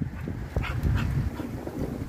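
An American pocket bully dog whimpers and whines in short, fairly close bursts outdoors, with wind noise in the background.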